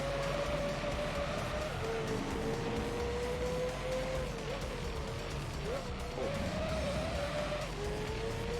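A racing car in Gran Turismo 3 holds a steady, high engine whine through a drift, with a gritty tire-scrubbing noise underneath and pitch dips as it shifts and slides.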